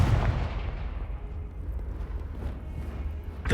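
Confringo blasting spell going off in Hogwarts Legacy, a loud booming blast at the start that rolls into a sustained low rumble and crackle before a second surge at the end.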